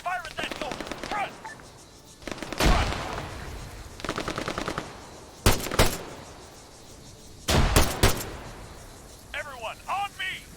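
Bursts of automatic machine-gun fire crackle in Arma 3 gameplay, with rapid rattling volleys and sharp, loud blasts spread across the scene, mixed with shouted voices and radio-like chatter.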